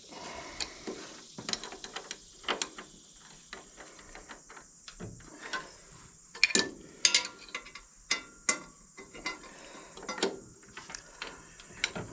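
A hand ratchet wrench clicks in short irregular bursts while working on a motor mount of an Excelsior-Henderson motorcycle, sharp close ticks separated by pauses, no talking.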